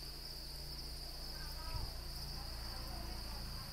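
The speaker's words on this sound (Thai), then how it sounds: "ล่ำลาไปด้วยเสียงร้องของเงินจากเสียงร้องของน้องสดิ้งนะคะ" House crickets (sading) raised in a farm pond enclosure chirp in a steady, continuous high trill that runs unbroken throughout, with a brief low thump near the middle and no talking.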